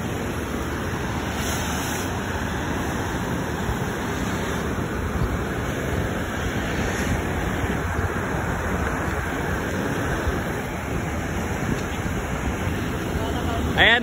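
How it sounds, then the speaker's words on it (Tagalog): Strong artificial waves churn and surge in a wave pool at a resort in Sto. Domingo, Nueva Ecija, a steady broadband wash of rushing water with constant crowd noise and voices mixed in throughout. "Sarap dito. Lakas ng alon,"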